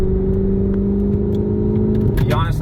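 A manual Audi R8 engine drones at steady revs under load while driving, then shifts near the end as the tone breaks up, with a passenger or driver speaking briefly over the engine.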